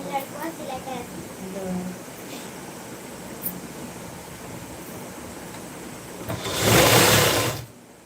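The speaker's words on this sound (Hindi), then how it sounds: "मैं सिलाई कर रही हूँ" A sewing machine stitches during a live home sewing session, with a loud, close whirring burst near the end after a quieter stretch where faint background voices and noise are heard.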